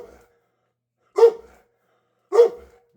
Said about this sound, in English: There's a doggy and he think he's hungry.